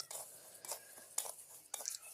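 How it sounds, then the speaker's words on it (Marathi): Ladle stirring horse gram as it dry-roasts in an iron wok over a wood-fired stove, giving faint repeated scraping and rattling strokes at an uneven pace, quiet and close. "हुलगे आपले भाजायला सुरू आहेत. हुलगे ज्यावेळेस वरी कढईमध्ये जातात त्यावेळेस उलटानं मात्र बंद ठेवायचं नाही, सारखं चालू करायचं"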